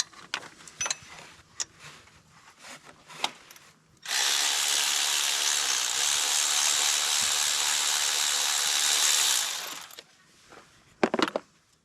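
A ratchet with a 16mm socket works on the belt tensioner of a Jeep JL 2.0 engine: scattered sharp metallic clicks, then a long, steady whirring burst of about six seconds, then more clicks.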